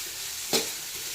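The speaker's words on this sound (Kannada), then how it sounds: "ಈರುಳ್ಳಿ ಮತ್ತು ದಪ್ಪ ಮೆಣಸಿಕಾಯಿ ಎಲ್ಲ ಚೆನ್ನಾಗಿ ಬಾಡೋ ಥರ ಫ್ರೈ ಮಾಡ್ಕೋಬೇಕು" Onions and capsicum fry in oil in a pan, a close steady sizzle with one brief louder stir partway through.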